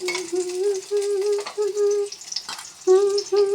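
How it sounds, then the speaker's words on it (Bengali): Chopped onions hit hot oil in a wok and sizzle with a steady, close hiss, broken by short pauses where they are stirred; a sustained tonal hum runs over the frying. "কড়াতে তেল গরম হয়ে গেছে, এখন দিয়ে দিচ্ছি পেঁয়াজ"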